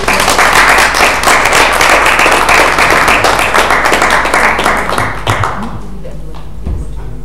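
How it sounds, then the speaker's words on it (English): A conference audience applauds a speaker coming up to present, with dense clapping that fills the room at a steady level for several seconds before tapering off and fading near the end. "everyone give a round of applause"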